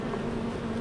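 Honey bees buzzing around a hive during a cotton nectar flow, a steady close droning hum with no pauses and no voices.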